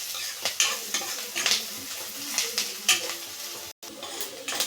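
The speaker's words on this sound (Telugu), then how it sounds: "బాగా లో ఫ్లేమ్లో పెట్టుకొని కలుపుకుంటూ ఆనియన్స్ ఎర్రగా వాడే వరకు చూద్దాము" Onions fry on a low flame with a soft steady sizzle, while a spoon scrapes and stirs the pan in repeated bursts, close and fairly quiet, with a short break near the end.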